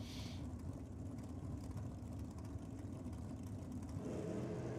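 Nitro drag racing car engine revving at a drag strip, a steady loud rumble and whir holding throughout, heard from a distance with crowd ambience.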